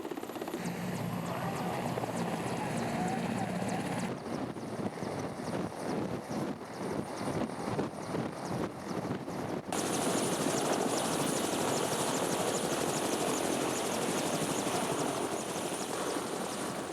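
A large helicopter ferrying bridge steel and cement to a remote Himalayan village in Dolpo, its rotor thudding steadily and loudly throughout, with a sharp shift in intensity partway as it passes close overhead.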